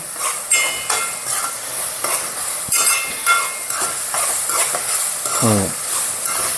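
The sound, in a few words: ginger paste frying with onions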